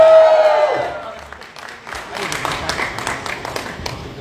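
Applause from an audience at a live Bhojpuri music event in Lucknow breaks out after someone speaks into a microphone, building into a steady, dense clatter of clapping that fills the room.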